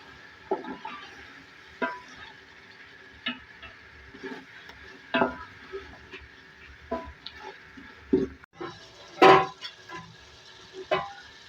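A spoon stirs chopped mint and coriander into a potato tahari mix in a pot, making soft, irregular scrapes and taps over a low sizzle, with one sharper clatter near the end.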